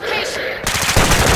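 Rapid automatic gunfire in Call of Duty: Modern Warfare II Warzone 2.0 rattles loud and close, starting abruptly after a brief lull and continuing in a dense burst.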